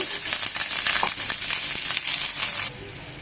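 Chopped onion hits hot mustard oil in a pan, giving a loud, close crackling sizzle with scattered pops that abruptly drops to a quieter hiss near the end.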